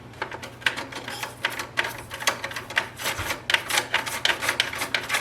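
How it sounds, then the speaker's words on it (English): Toothbrush bristles scrub the paper roller of an HP DeskJet 2700 printer, giving a steady run of close, dry rasping strokes in quick uneven bursts over a low background hum. "I'm just going to use a toothbrush."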